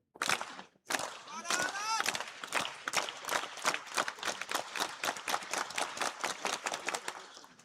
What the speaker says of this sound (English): Another round 6 slow clap.